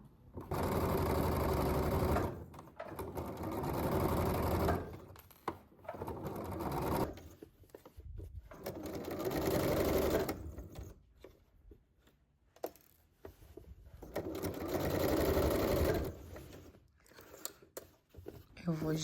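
A sewing machine stitches a curved seam on a layered blouse in bursts of fast, close whirring separated by pauses as the piece is turned, with a voice talking in between.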